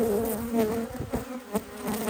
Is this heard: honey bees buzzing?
yes